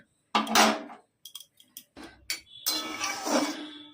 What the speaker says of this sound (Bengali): এবার ঢাকা দিয়ে দেবো সেদ্ধ হতে দেবো একটু